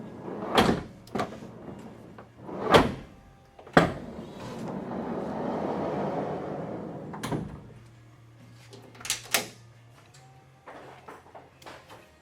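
The door of a Nissan NV3500 prisoner transport van is opened and worked, giving several sharp thuds and latch clunks spaced apart, with a softer rustling stretch between them.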